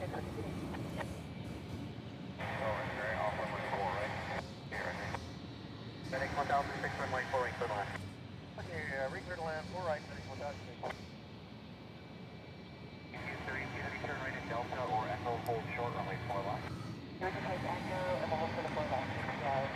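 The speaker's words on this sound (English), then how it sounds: "It is Hawaiian Flight 990 heading off to Seattle." A Hawaiian Airlines heavy jet airliner bound for Seattle rumbles with a low, sustained engine roar at a distance while someone talks over it throughout.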